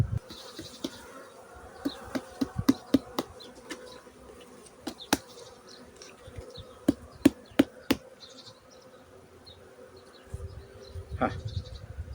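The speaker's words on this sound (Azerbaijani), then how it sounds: "qıraqdakı ballı çərçivəni arıları sirkələyirik." A low swarm of honeybees hums throughout, punctuated by a series of sharp knocks and taps as bees are shaken off an outer honey frame, with a rougher rustling burst near the end.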